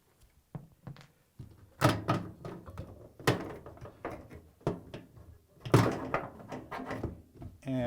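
A Samsung washer door swings shut with a solid thunk amid several other knocks and bumps from handling the front panel during a check valve repair, close and fairly loud.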